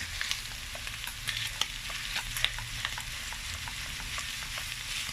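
Ground meat sizzles steadily in a hot frying pan for a spaghetti bolognese, a continuous crackling hiss with small pops and occasional stirring scrapes, close and fairly loud with no talking.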